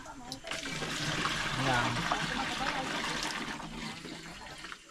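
Water drawn from a provincial well pouring and splashing into a container, a steady loud rushing fill that swells and holds, with people talking over it.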